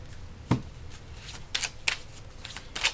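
Tarot cards being shuffled by hand in a few short riffling bursts, one soft thump followed by three crisp, close shuffles spaced across a quiet background.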